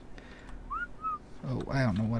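A whistled two-note tune in ARK: Survival Evolved, two short rising-and-falling tones heard alone, followed by a louder burst of game noise or creature calls.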